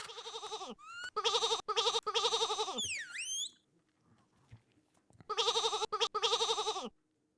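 Video game sheep bleat in loud, wavering bursts, several calls in a row, separated by brief pauses and one stretch of near silence. A high whistle-like sweep rises between the calls.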